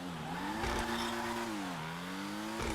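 Car engine in GTA Online revs up and settles while double clutching, a steady mid-level whine that rises, dips and climbs again, with tyre squeal and no talk.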